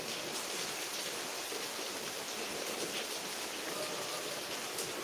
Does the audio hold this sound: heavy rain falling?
yes